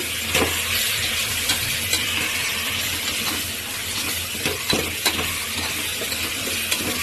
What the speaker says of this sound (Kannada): ಒಗ್ಗರಣೆ ಮಾಡ್ತಿರೋದನ್ನು ಮಿಕ್ಸ್ ಮಾಡ್ತಾಯಿದ್ದೀನಿ.